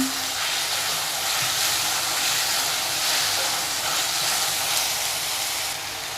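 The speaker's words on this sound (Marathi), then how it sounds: "आलं लसूण कोथंबीर कढीपत्ताची मी पेस्ट घेतली आहे दीड चमचा ती घालून घेऊया आणि व्यवस्थित असं परतून घेऊया" Ginger, garlic, coriander and curry leaf paste sautéing in a pan for a pea and mushroom masala, a steady broadband sizzle and hiss that holds evenly throughout with no voices.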